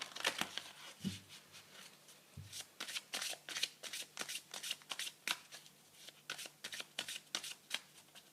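Tarot cards shuffled by hand in a steady run of crisp riffling bursts, close and soft, with a couple of low thumps early on.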